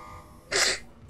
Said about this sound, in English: Uh-oh, gonna sneeze.